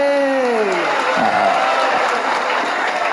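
Audience applause with cheering and whoops at a religious gathering, a loud sustained crowd clap that starts under a fading voice and carries on steadily to the end.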